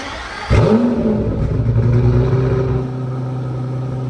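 Aston Martin Valour with a manual V12 fires up with a sudden loud catch, then revs and holds a rising, steady roar before settling to a lower idle, close by with no talk.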